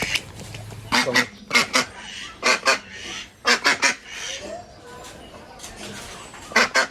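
Loud, nasal quacking calls from commercially farmed ducks come in short clustered bursts of two or three, repeating several times close by over a low background murmur.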